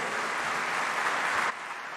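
Steady crowd applause at a bank's annual meetings, dense and continuous, then cutting off abruptly partway through, leaving a quieter background.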